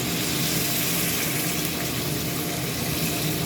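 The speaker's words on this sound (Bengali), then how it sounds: "এখন গরম পানিটা দিয়ে দেবো" Hot water is poured onto fried rice and lentils in a pot for khichuri, making a continuous soft rushing hiss with a faint sizzle, steady and unbroken, with no one speaking.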